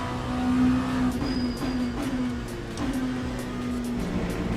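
Race car engines in the video game Le Mans Ultimate drone steadily at a sustained pitch, with a fairly loud, continuous hum and slight wavering over a few seconds.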